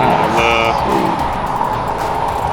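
A twin turbo Ford F150 truck running on 93 pump fuel at about 10 psi of boost, its engine a loud, close, continuous rumbling roar that holds steady with a brief higher whine near the start.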